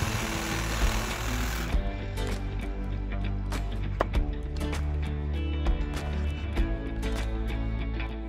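A reciprocating saw cuts grooves into Ytong aerated concrete blocks, giving a rapid, steady buzzing chatter with a sharp start and a few short breaks and bursts, close and fairly loud, with no talking.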